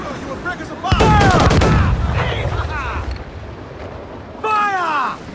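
Ship cannons fire a broadside in Assassin's Creed IV: Black Flag, a loud booming volley with rumbling echoes, mixed with shouted orders and whistling projectiles, then another blast near the end.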